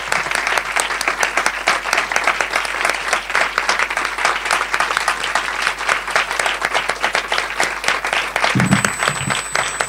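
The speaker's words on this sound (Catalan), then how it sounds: "que ens mereix un aplaudiment" An audience at a poetry event against violence in a hall breaks into loud, sustained applause, a dense rapid patter of many hands that continues evenly for about ten seconds, with a brief low murmur near the end.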